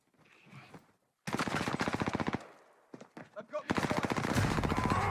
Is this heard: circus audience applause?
no